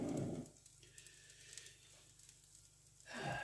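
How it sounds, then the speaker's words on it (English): An omelette fries in hot oil, a steady close sizzle with louder bursts of crackling at the start and end and a quieter fizz in between. "turning on a bunch of oil and frying it. That's right, you're going to get a fried omelette"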